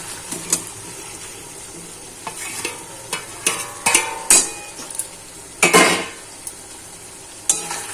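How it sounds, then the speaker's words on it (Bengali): Potatoes are sautéed with turmeric and ground coriander-cumin in a pan. A low sizzle runs under repeated clattering scrapes and knocks of a spoon against the pan, up close, with no talking. "আলুটা আমি মশলার সাথে ভালো করে কষিয়ে নেব।"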